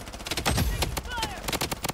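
Bursts of rapid gunfire in the shooter game Blood Strike on Shutter Island, a string of sharp shots in quick succession with a loud thump in the middle, under the game's background sound.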